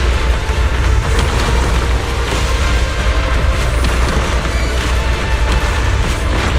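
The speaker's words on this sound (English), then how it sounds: "Move in during the gaps between explosions." A dense, continuous roar of booming explosions and rumbling debris in Zenless Zone Zero fills the whole stretch, loud and unbroken, with no voices.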